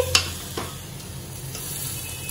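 Hot oil sizzles steadily as spices hit the pan, with a couple of sharp crackles near the start and a soft continuous hiss throughout.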